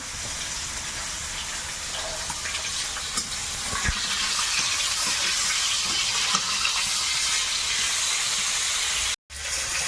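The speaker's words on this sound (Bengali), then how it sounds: "মাছও ভাজা হয়ে যাচ্ছে, এক পিঠ উল্টে দেবো" A constant hiss of barramundi (bhetki) fish frying in hot oil fills the scene, with occasional faint pops and clicks and a brief dropout near the end.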